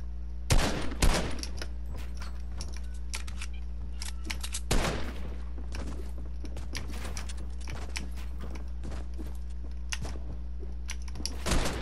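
Gunfire in the Fortnite video game: repeated sharp shots and short bursts, a few louder volleys near the start and around the middle, over a steady low hum throughout.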